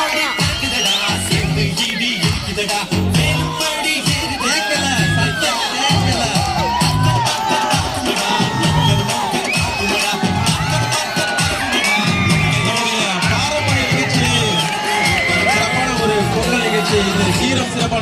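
Dense crowd noise at a Pongal celebration, with cheering, whoops and shouts running loud and steady throughout, plus scattered bangs and what may be clapping. Voices mix into the din.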